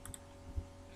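A computer mouse gives a quick double click: two faint, crisp ticks close together, followed by quiet room hum.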